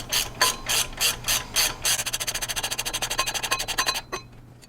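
A ratchet clicks close and loud as crankshaft pulley bolts are tightened on a Fox Body Mustang, first in slow separate bursts, then a fast steady run of clicks that stops abruptly.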